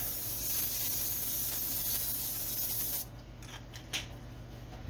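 A continuous hiss of aerosol cooking spray for about three seconds, then stops, followed by a few faint clicks and rustles.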